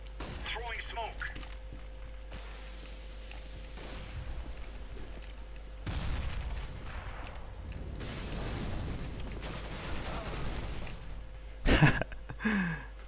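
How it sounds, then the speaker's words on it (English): Grenade and flashbang explosions in the video game CS GO: several heavy booms and bursts rise over steady game background noise, with a sharp, loud blast near the end. "Grenade out. Deploying flashbang."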